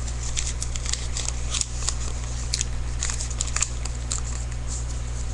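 Paper being pushed in and folded while making an origami crane, heard as close, crisp crinkles and small crackling taps over a steady low electrical hum.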